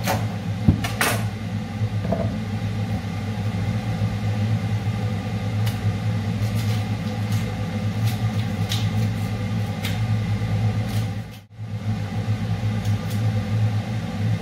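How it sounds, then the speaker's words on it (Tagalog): A loud kitchen exhaust fan drones steadily at close range with a low hum, while faint clicks and light kitchen knocks sound over it and the noise dips briefly once. "Yung exhaust fan guys medyo malakas."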